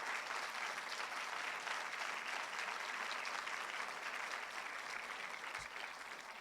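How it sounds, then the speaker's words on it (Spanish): A church congregation applauds during a sermon, a sustained dense wash of clapping that holds steady and eases slightly at the end. "Dele un fuerte aplauso al Señor, dele un fuerte aplauso al Señor."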